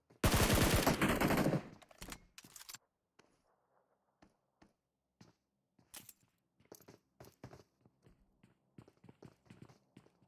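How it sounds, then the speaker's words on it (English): A red dot Scar L rifle fires in PUBG Mobile during an esports match: a dense, loud sustained burst of automatic fire for nearly two seconds, followed by scattered quieter single shots and short bursts. "Iridescence on the porch here, putting shots down with a red dot Scar L."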